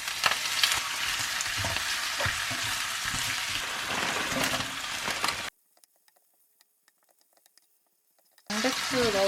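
Garlic and beef brisket fry in olive oil in a pan, crackling in a busy, close sizzle for about five seconds. Near silence follows, and then a voice starts.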